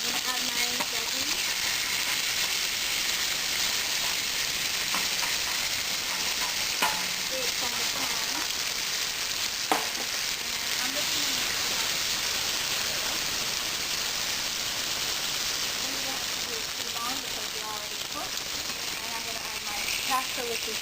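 Vegetables fry and sizzle in a hot pan beside draining pasta in a home kitchen. The loud, steady hiss runs throughout, broken by occasional stirring clatter, with a little background speech.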